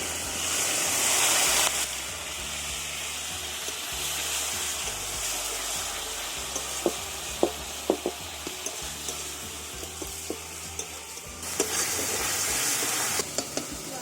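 Spice paste for a pomfret fish curry cooks in a pan. A low sizzle runs under sharp clinks and scrapes of stirring, with louder bursts of hissing water near the start and end.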